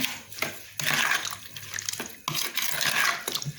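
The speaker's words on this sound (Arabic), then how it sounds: "انا نحاول ندير واحد كاس ديال الماء" Water pours into a glass in two bursts of splashing flow separated by a short pause, close and moderately loud, with a faint drip between.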